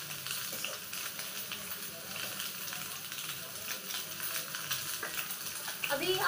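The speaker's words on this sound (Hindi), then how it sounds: "अभी आप देख सकते हैं हम इसको किस तरीके से भून कर तैयार कर रहे हैं।" Soya chunk curry masala stir-fried in plenty of oil, a steady close sizzle with stirring scrapes throughout, growing a bit louder near the end, no voices.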